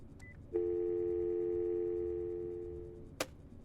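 A single loud, steady electronic telephone ring holds for nearly three seconds, then cuts off, with no voices.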